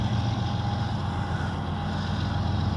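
A CSX freight train led by a GE Dash 8 diesel locomotive throttling up, heard as a continuous loud low engine rumble and drone with wind noise, steady throughout and without voices.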